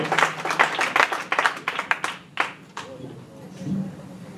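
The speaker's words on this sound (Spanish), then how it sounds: "Aplauda fuerte el nombre de Jesús en esta tarde" A church congregation at a Sunday children's service claps hard in a fast, ragged burst of handclaps that thins out after a few seconds, with voices mixed in and a murmur continuing underneath.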